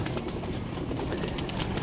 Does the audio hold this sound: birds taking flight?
yes